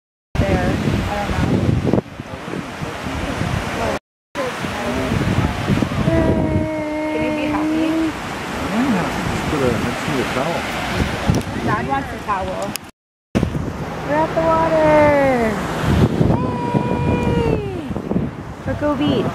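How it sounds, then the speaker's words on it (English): Waves and wind at a beach, a steady broadband wash with gusty microphone buffeting running under close, continuous talk from several voices. "We're at the beach."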